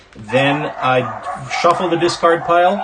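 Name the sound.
dogs barking in the background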